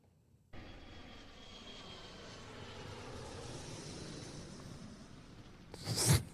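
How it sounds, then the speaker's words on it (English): A quiet airplane landing: a soft, steady engine drone starts abruptly after half a second, holds evenly, then swells into a brief louder rush just before the end. "It's like the quietest plane landing."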